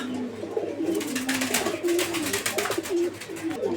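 Pigeons coo close by in soft, repeated low warbles over a dense, rustling background.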